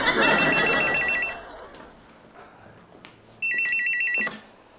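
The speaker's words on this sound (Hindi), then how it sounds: "ये तानिया बेबी का फोन है।" A telephone rings in two bursts of rapid electronic trilling, the first long and loud, then a pause with faint background noise before a second shorter burst.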